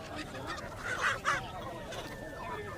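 Chickens and roosters, including Aseel roosters, call out a couple of times amid a busy background of clucking and chatter at a bird market in Abu Arish, Jazan, Saudi Arabia, with steady ambient noise.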